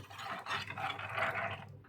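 Boiled water from a kettle pours in a short continuous splashing stream into a pot of fish curry, a brief liquid gush with no talking.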